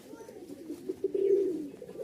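Rajshahi Giribaz pigeons, a breeding pair kept for flying, coo in a low, steady murmur that swells toward the middle and fades, close by with no talk.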